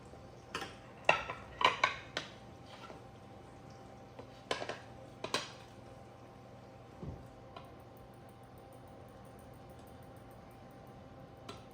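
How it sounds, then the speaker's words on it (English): Clinking of a plate set onto a metal baking pan holding banana bread, then flipped: a few sharp, faint clatters in quick clusters, a couple more a little later, with a quiet room hum between. "So the easiest way would be just to put the plate on and then flip it over."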